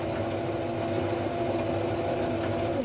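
A sewing machine quickly stitching quilt pieces, a steady even motor hum running continuously and fairly close.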